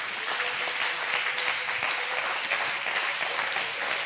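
A church congregation claps in sustained, dense applause through an Easter sermon. The sound is loud and steady throughout.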